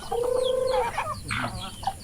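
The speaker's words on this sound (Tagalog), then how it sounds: "Ang daming manok ni Papa." Hens in a backyard flock just after rain let out one drawn-out call and then a few short, close clucks in a quick burst.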